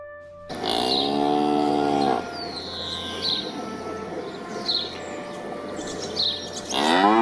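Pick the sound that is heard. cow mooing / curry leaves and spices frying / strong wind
cow mooing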